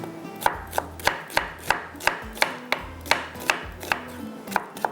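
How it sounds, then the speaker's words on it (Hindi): A knife chops onions and tomatoes finely on a cutting board in a home kitchen, giving sharp, evenly spaced taps, roughly three per second, close and clear with no voices. "थोड़ा सा इसको बारीक चॉप कर लूँगी"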